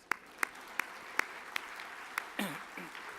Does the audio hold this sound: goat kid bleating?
no